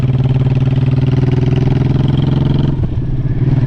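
A Honda Shadow 1100 motorcycle engine idling in neutral, heard up close and loud as a steady, even low throb, with a slight dip and wobble near the end; no talking.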